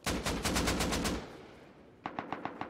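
Suppressed gunfire in a shooter video game: a rapid burst of about eight muffled shots, then a short pause and a second burst of five or six quieter shots, fairly close and loud, with no talk.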